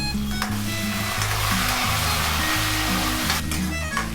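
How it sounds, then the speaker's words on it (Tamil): Steady, continuous sizzling of curry leaves frying in hot oil, loud and close, with a constant hiss throughout and no talking. "இப்போ நம்ம எடுத்து வச்சுருக்கிற கறிவேப்பிலையை ஆட் பண்ணிடலாம்."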